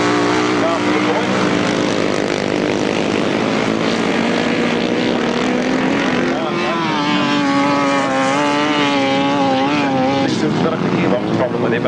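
Grasstrack racing sidecar engines at a 1994 national best pairs meeting, one machine running an engine half the size: loud, sustained engine drone with rising and falling pitch as the machines race, under continuous commentary.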